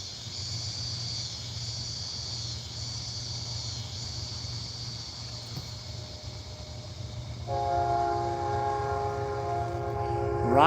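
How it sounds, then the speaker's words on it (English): Train passing at a steady rumble with rolling wheel noise, then a loud multi-toned horn joins near the end and swells louder. "Right on time, train, right on time."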